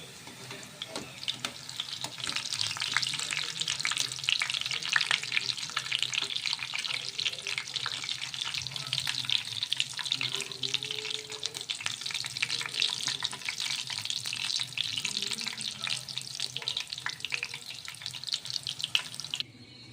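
Pieces of patid (pateed) frying in hot oil in a home kitchen make a steady, dense sizzle that runs close and unbroken throughout, with faint stirring and clinking and no talking.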